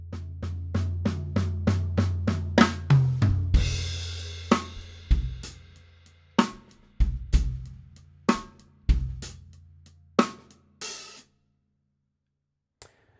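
A drum kit plays a 12/8 shuffle groove, then a fill split across snare, high tom and low tom, with crisp, evenly spaced hits and a cymbal wash ringing through, close and alone.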